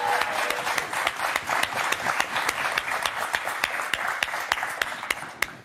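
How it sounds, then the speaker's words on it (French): Studio audience applause on a French television game show, steady dense clapping sustained throughout with a few sharper individual claps standing out, no talking over it. "Bravo, applaudissements."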